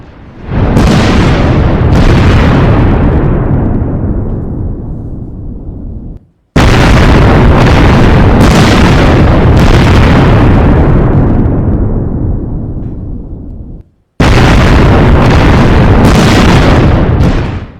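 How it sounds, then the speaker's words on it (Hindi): Three huge, roaring blasts from a chemical factory explosion, each a loud boom that rumbles on for several seconds before decaying, separated by abrupt cuts; no talking. "फैक्ट्री में धमाका, कंकाल बन गए मजदूर"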